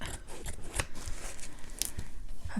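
Scissors cut through a soft padding layer for a leather-look cover, giving a quick series of close, crisp snips and slicing sounds in an uneven rhythm.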